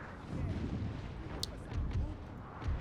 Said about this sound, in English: Currently cannonballs landing over here.